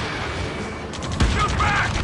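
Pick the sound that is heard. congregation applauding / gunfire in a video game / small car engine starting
gunfire in a video game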